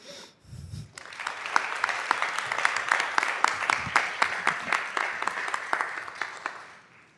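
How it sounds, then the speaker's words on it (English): Applause at a school district board of trustees meeting, honoring students' parents as they stand; a brief murmur gives way to steady clapping from a modest crowd with some distinct close claps, lasting several seconds before tapering off. "could you please stand and we can give you a moment of applause"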